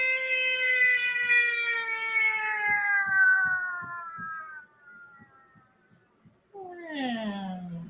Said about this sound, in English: It almost sounds like a cat's trying to throw up, but there's no cats here.